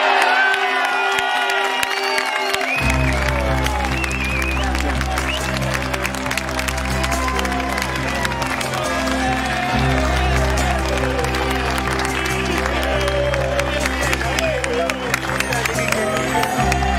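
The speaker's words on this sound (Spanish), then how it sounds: "Fuerte el aplauso." A large crowd applauds and cheers loudly and steadily for a new world champion at an aerobatic model aircraft world championship in Argentina, with whoops and a public-address voice talking over it.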